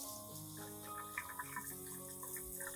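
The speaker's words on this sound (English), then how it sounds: "take the plant and rinse it thoroughly under running water" Tap water runs steadily over an orchid plant as its roots are rinsed, a faint, continuous splashing stream with soft trickling beneath a low background hum.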